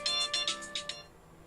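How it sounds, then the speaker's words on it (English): A phone's ringtone chimes in a quick run of about five bright electronic beeps, moderately loud and close, then cuts off into quiet. "Oops! Forgot to turn the phone off."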